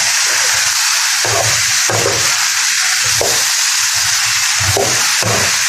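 Bottle gourd and potatoes fry in a pan while being stirred, a loud continuous sizzle with recurring scraping pulses of the spatula roughly every second, close and without speech.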